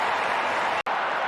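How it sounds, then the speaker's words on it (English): Stadium crowd at an AFL match, Adelaide against Hawthorn, applauding in a dense, loud wash of clapping and cheering, briefly cut before continuing. "Sneaks it in, and the crowd showing the appreciation."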